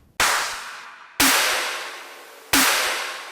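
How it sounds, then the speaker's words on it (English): Three separate hits of layered electronic snare drum samples, each with a sharp, striking attack and a long noisy decaying tail, spaced about a second apart and played alone. "This is just the snares from that, just so you can hear what this sounds like."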